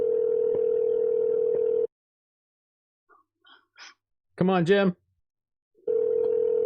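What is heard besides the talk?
telephone ringing tone on an outgoing call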